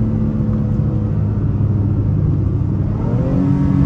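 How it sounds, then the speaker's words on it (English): Cabin sound of a 2023 Honda Pilot Touring with its ten-speed automatic, the engine droning steadily and rising slightly in revs during a rev-matched downshift, a continuous mid-loud hum with no talking. "Get nice rev match downshifts."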